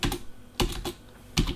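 Quick bursts of typing on a computer keyboard while a watermark logo is made: three short clusters of close, crisp key clicks, no talking.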